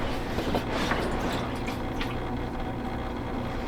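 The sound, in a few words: hot tub pump running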